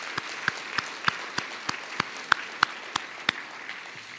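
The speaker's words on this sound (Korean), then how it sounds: "우리 모두에게 하나님께 영광의 박수를 드리도록 하겠습니다." Sparse, evenly spaced claps ring out in a church worship service, a dozen or so sharp hand claps at a steady rhythm, fairly faint and echoing, with no voices over them.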